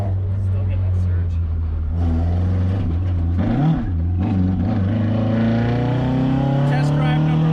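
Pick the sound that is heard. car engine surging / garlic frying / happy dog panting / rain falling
car engine surging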